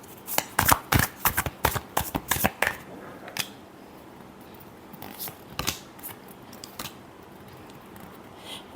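Tarot cards being shuffled in a quick burst of crisp riffling snaps and slaps near the start, then a few scattered softer card flicks and rustles, close and fairly quiet.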